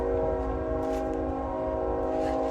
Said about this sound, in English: of course, the train comes when I'm making a video